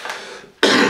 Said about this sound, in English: I'm gonna have to wait till the cough stops.